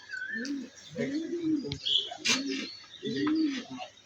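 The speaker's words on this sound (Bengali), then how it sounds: "আমার কবুতর এগুলো পালিগুলা" Pet pigeons in a loft coo in a steady run of four low, rolling calls, close and fairly loud, with a faint chirp and a brief rustle between them.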